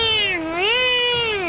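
A female cat lets out one long, loud, wavering meow, rising and falling in pitch as she begs for attention, close by with no one talking.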